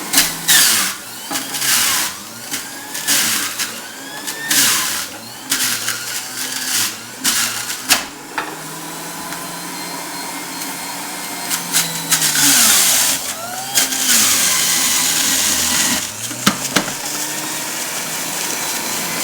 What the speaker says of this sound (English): we're literally taking 4 carrots and we're pushing it through the juicer